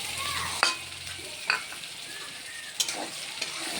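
Peas and coriander leaves are stirred through vegetarian pasta frying in a pan: a soft, steady sizzle punctuated by several sharp spatula clicks and scrapes against the pan.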